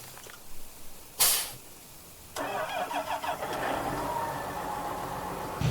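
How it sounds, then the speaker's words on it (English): A John Deere tractor in the video game Farming Simulator 19 starts with a sharp burst, then its engine runs into a steady, fairly loud droning rumble that holds to the end. "Bring the old trusty John Deere over here."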